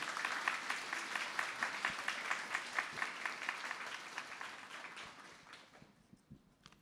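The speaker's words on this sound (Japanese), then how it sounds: "拍手でお迎えください" Audience applause welcoming director Hirokazu Kore-eda at a Tokyo International Film Festival exchange lounge, steady moderate clapping from a small crowd that tapers off toward the end, a few scattered claps lingering.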